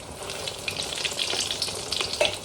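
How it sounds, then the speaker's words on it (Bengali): Eggplant slices frying in a hot pan, a steady crackling sizzle with scattered sharp pops throughout, close and continuous with no talk. "আজকে বেগুন ভাজাটা একটু অন্য স্টাইলে করছি"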